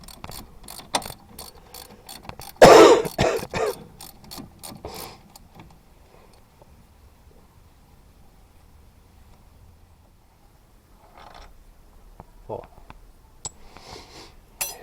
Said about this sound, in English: let's take out the 4 15mm bolts